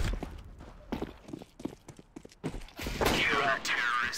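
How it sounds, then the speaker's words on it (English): Gunfire in CS:GO, with scattered sharp shots early and a louder burst of shooting near the end, mixed with footsteps and people talking. "Good shot with my gun."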